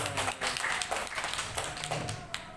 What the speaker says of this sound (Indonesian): Insyaallah bisa ada tepuk tangan.